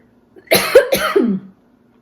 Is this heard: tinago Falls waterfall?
no